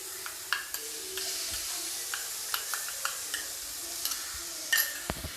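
Ground spice paste for a mixed vegetable kofta curry sizzles softly in a pan while being stirred, a quiet steady hiss punctuated by scattered clicks and scrapes of the spoon, close and without talk.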